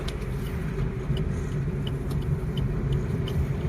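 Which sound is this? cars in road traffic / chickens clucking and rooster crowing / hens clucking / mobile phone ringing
cars in road traffic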